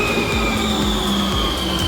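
Amsterdam metro subway train running loudly and close, with steady rumble, rhythmic wheel clatter over rail joints and a sustained high squeal throughout, no talking.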